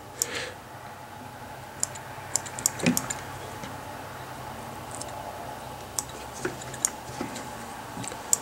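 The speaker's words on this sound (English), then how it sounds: "finish sculpting with your scissors if you need to" Scissors snip in sparse, sharp little clicks while a Bow River Bugger streamer fly is sculpted at the tying bench, scattered irregularly over a quiet background with no voices.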